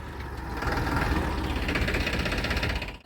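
A tractor engine runs steadily and close while unloading manure in a village, a continuous loud mechanical rumble with rattling and clanking over roughly three seconds, no voices.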